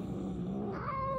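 A cat growls in a video game, a low, continuous rumbling growl that rises slightly in pitch toward the end, close and steady, with no talking.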